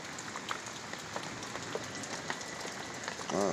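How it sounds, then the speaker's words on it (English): Steady rain patters outside a small survivor shack, a dense, even hiss with scattered drips, heard alone at a low, constant level. "It stopped raining so hard, I think."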